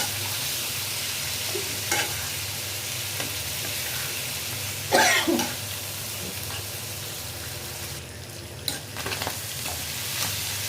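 Beef tripe being stir-fried in a pan gives a continuous loud sizzle, with occasional scraping stirs and one sharper burst of hissing midway.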